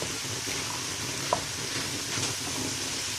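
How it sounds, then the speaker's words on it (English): Chopped onion for beef empanadas frying in a pan, a steady close sizzle with a brief utensil clink and faint stirring, no talk. "we'll cook this for a little bit until the onion starts to turn clear"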